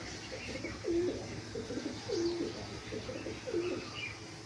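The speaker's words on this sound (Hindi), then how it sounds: "ये मेरे कबूतर बैठे हुए हैं उदास उदास।" Pigeons coo outdoors in a cool breeze, with four soft, rolling calls spaced about a second apart, moderately close over a low background hum.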